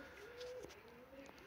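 Soft coos from Budapest pigeons at close range over a quiet background, with a few faint clicks and rustles.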